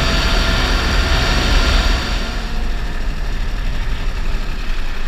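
A New Holland TC30 compact tractor spreading chicken manure runs loud and close, its exhaust down by the tire, holding a steady throaty drone that eases slightly partway through.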